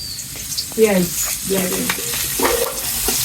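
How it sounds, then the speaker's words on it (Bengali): Loud sizzling of fish frying in hot oil, with stirring and scraping noises and occasional bursts of crackle. "হয়েছে মাছ ভাজা"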